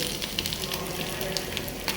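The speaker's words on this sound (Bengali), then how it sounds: "এই যে ভাজা ভাজা করে ফেলছি দেখেন, আর একটু ভাজা ভাজা হবে।" Curry frying in a pan makes a quiet, even sizzle with small pops and crackles, faint and close, with no voices over it.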